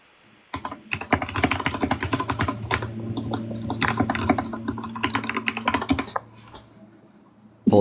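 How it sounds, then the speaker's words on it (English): Rapid clacking keystrokes on a mechanical computer keyboard, dense irregular typing bursts at close range with a steady low hum underneath, ending in a sharp louder knock. "it's my mechanical keyboard"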